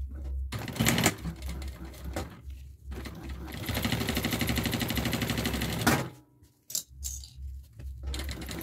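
A sewing machine runs a short stitch length with automatic backstitch, its rapid rhythmic mechanical whirring loud and close, in bursts broken by a brief pause before resuming.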